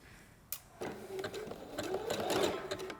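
A sewing machine runs a zigzag stitch along a seam, a soft steady mechanical whirr starting after a brief click and building slightly, close and quiet.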